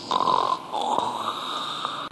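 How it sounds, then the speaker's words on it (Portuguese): A recording of a person snoring plays back as a loud, rasping, nasal drone, one long drawn snore followed by a fainter continuing breath, close and without talk. "Chega até a gravar o ronco."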